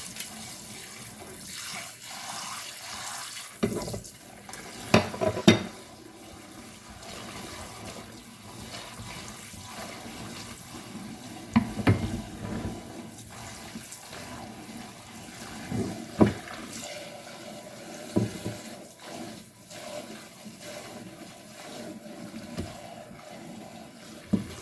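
Cold water runs from a kitchen tap in quiet, intermittent spurts, with a few louder splashes and clinks between softer stretches of flow.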